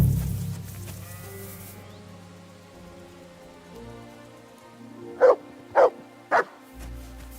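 Dog barks three times in quick succession, loud and close, in the medieval game Kingdom Come: Deliverance 2, over a soft rain-like background hum; no ram bleat stands out.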